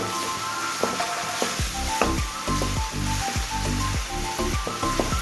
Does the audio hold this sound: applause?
no